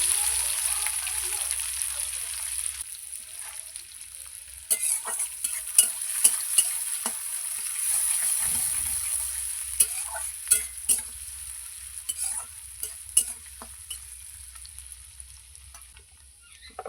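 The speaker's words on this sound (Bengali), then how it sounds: "আমি এবার পেঁয়াজটা দিয়ে দেবো" Onions sizzle in oil with panch phoron for a potol and katla fish curry, a continuous close hiss broken by repeated sharp stirring scrapes and clinks.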